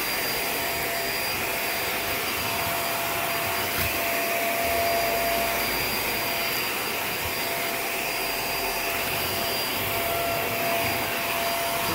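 A Hoover React Professional Pet vacuum cleaner runs on a hard floor, with a loud, continuous, even whooshing roar and no talking.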